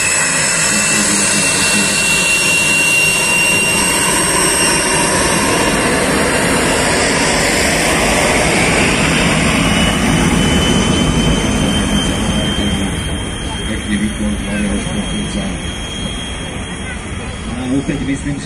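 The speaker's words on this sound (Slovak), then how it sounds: "krásny zážitok vidieť prúdového lietadla československého L-39 Albatros a tým jeho letecká show" A Czechoslovak L-39 Albatros jet trainer roars past during an air show, a loud sustained engine rush with a high whine that swells and then eases as it moves off, over faint crowd murmur.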